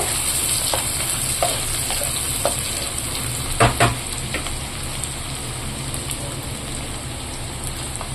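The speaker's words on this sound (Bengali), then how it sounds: "প্রথমে পেঁয়াজগুলো ভালো করে ভেজে নেব" Onions frying in a pan give a steady, dense sizzle throughout, with a couple of brief louder crackles or stirring knocks midway.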